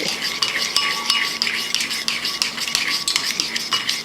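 Oil and vinegar garlic sauce being mixed briskly in a bowl, making a close, rapid, rhythmic swishing and scraping with faint clinks of the utensil, steady for about four seconds with no talk.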